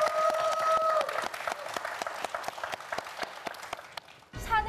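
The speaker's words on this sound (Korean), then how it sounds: "큰 박수 부탁드립니다." A small studio audience claps for four second-year students on a TV quiz show, with sparse, distinct handclaps over a fading sustained tone, ending in a short musical jingle.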